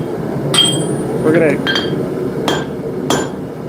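A hammer taps hot steel while a hot cut chisel is forged, several sharp ringing strikes spaced irregularly over a steady background hum, with no talking.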